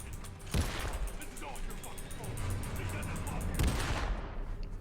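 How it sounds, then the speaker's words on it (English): Gunfire from the video game Dead Space 3 during a speedrun, two sharp loud shots about three seconds apart over a steady backdrop of game ambience and faint talking. "we're going to shoot Robert in the head"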